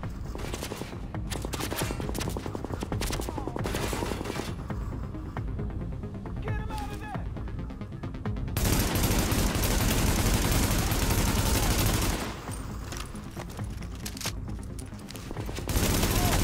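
Heavy bursts of game gunfire from a heavy gunner's machine gun in The Division, loud, sustained volleys that come in long sweeps separated by short lulls.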